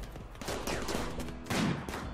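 Rapid bursts of gunfire in RimWorld with a Call of Cthulhu mod crackle continuously, dense and loud, with a heavier blast near the end.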